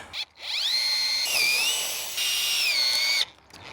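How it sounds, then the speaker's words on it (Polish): A power drill bores into and drives a screw from below into the vertical wooden element of a hammock stand. Several close whining bursts rise and fall in pitch with short pauses between them. "Nawiercamy i przykręcamy od spodu sobie ten pionowy element."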